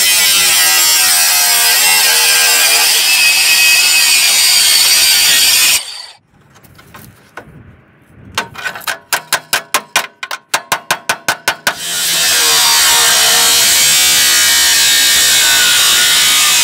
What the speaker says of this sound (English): So I'm just going to cut this corner with the angle grinder and try to access it